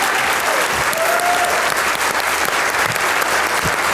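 An audience gives loud, sustained applause to welcome the poet Syed Salman Gilani, a dense wash of clapping heard up close with no break.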